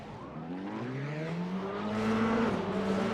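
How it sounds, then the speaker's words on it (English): Several race car engines roar together at a green flag start in a Grand Prix series finale, a steady loud drone with rising pitch as they accelerate away, alone with no voices. "The engines are roaring."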